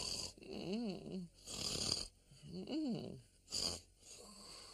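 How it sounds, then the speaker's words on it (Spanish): A sleeper snores loudly in a cartoon, two long rasping inhales with a buzzing pitch sweep, each followed by a short hissing exhale, evenly spaced and close up. "nos has despertado con tus ronquidos"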